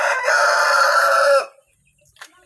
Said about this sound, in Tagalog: Sa mga manok.